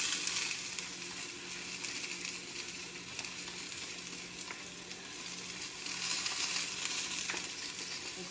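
Mushrooms seasoned with salt and pepper sauté in a pan, giving a steady, close sizzle and crackle of frying that runs throughout with light stirring scrapes and no talk.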